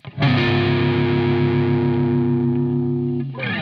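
A single distorted electric guitar chord rings out and sustains evenly for about three seconds, with a short pick scrape at the start and end.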